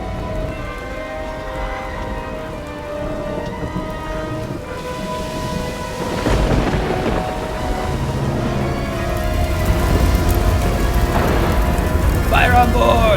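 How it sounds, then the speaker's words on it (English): A heavy storm effect for a film scene: steady, loud rain pours throughout while deep rumbles of thunder swell and roll in the middle and build again toward the end. "The storm's getting worse."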